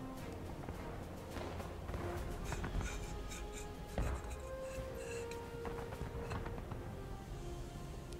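Rapid keyboard typing clatters through a voice chat channel during a War of Rights multiplayer skirmish, a steady run of soft clicks under a noisy game background of continuous din, with a couple of louder knocks.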